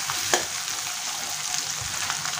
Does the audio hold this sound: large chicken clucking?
no